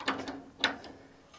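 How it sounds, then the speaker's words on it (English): A torque wrench on a Woodland Mills HM130 Max sawmill gives two sharp ratcheting clicks, faint and close, with quiet mechanical ticking after. "So then we can test that with the torque wrench to see how close we were"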